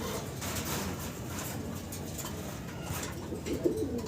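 Fancy pigeons coo softly in a steady, low murmur of throaty calls over faint background rustling.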